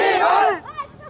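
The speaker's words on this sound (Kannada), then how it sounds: "ಜೈಕಾರನ ಕೂಗ್ತಾ ಇದ್ದೀರಾ, ಅಷ್ಟು ಕ್ರೇಜ್." Fans gathered near actor Darshan's home during his birthday celebration, a loud crowd shouting a cheer together that breaks off into a shorter, fainter call.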